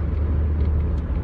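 Steady low rumble of a car going past, close and continuous through the whole short stretch with no voices.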